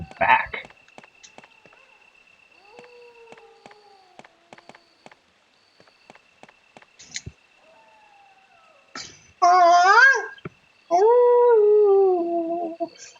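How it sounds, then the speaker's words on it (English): A dog in the video game Resident Evil (1996) howls in two loud, wavering bursts near the end, after a stretch of sparse clicks, thuds and quiet game sounds. "This annoying fucking mongrel that will not shut the fuck up."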